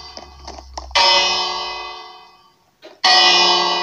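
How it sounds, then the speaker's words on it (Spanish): A bell in a Murder Mystery video game rings out twice after a few faint clicks, each strike loud and bright, with a long shimmering decay between them. "Deja de cliquear la campana."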